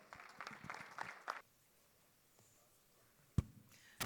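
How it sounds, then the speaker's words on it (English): An audience at a school sustainability summit applauds a district collector as she is welcomed, a brief burst of clapping that stops after a second and a half, followed by near silence and a couple of sharp knocks. "Please welcome her with a huge round of applause."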